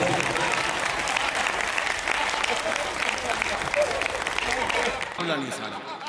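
Audience at a Hindi poetry performance breaks into sustained applause, a dense wash of clapping that runs for several seconds and then fades as a voice begins to speak.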